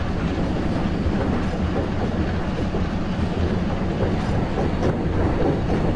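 Trains rumbling through a station in the Train Simulator 2023 game, with an ICF rake and an LHB rake running side by side as a steady, loud, continuous rail roar with faint clickety-clack and no voices.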